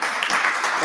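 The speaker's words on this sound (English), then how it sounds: "So let's give a round of applause to Graham" Brief burst of audience applause for an invited speaker at a science seminar, a close, dense patter of clapping lasting under a second, with a voice faintly underneath.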